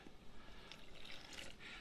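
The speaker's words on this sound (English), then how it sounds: "And in goes 1/2 cup of water" Half a cup of filtered water poured into fish batter in a home kitchen, a faint, steady trickle running for about two seconds with no talk over it.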